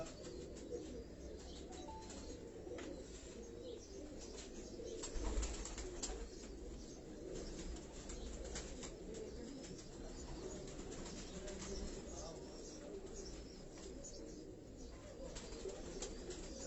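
Pigeons coo softly in a loft kept by a Karachi pigeon fancier, low murmuring calls repeating steadily under a constant background hum, with a brief burst of wing flapping partway through.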